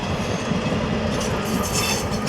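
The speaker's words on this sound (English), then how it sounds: "the train is going back to collect some more people" A train rumbles steadily nearby, wheels clattering over the rails in a continuous rolling din, with no talking.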